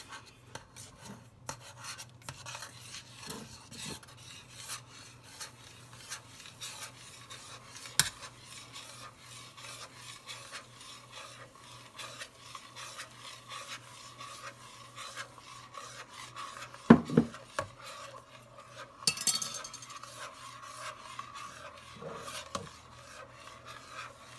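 Sure-Jell pectin being stirred into sugar for golden Japan plum jam, a steady gritty rasping and scraping that runs throughout at close range, with a few sharper clinks and knocks along the way.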